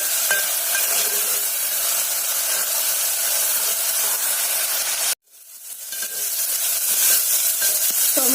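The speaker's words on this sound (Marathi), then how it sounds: "तेलामध्ये खूप छान फ्राय झालेला आहे" Tomatoes frying in hot oil for methi dal fry, a loud continuous close sizzle that cuts out sharply for a moment, then swells back to a steady hiss.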